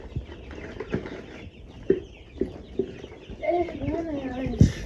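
Chickens on a working chicken farm cluck and call in short bursts, with a few louder squawks and a rising call near the end, all mixed with people talking nearby.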